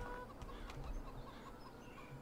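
Chickens in the video game Farming Simulator 17 cluck softly in short, faint bursts, with no voice over them.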